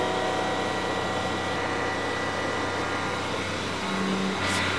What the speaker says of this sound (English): to listen to all the noises of the car.